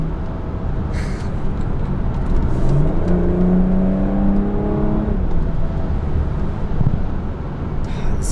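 A BMW F30 340i with a B58 engine is driven on back roads, heard from inside as a steady road and engine drone with one rising and falling pass through the revs in the middle.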